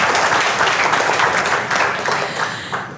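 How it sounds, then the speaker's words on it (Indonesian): Audience applause at an Enagic Kangen Water marketing plan seminar, a dense steady clapping from a roomful of people lasting the whole few seconds, fairly loud and close, with no talking over it. "Tepuk tangan jangan sendirian."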